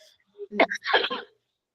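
A short, close cough burst, a couple of rough throaty hacks in quick succession, with no talking.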